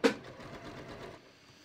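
A sewing machine stitching fabric for a pair of shorts, a quick clunk and then about a second of steady rapid motor whir before it stops, close and alone.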